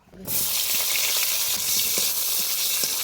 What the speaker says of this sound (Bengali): এবার কাঁচকলা ভেজে নেব